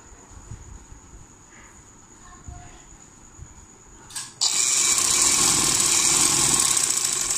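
A sewing machine stitches elastic into a trouser, gathering the fabric. After a few quiet seconds it starts abruptly and runs as a loud, steady whirring buzz, close by, to the end.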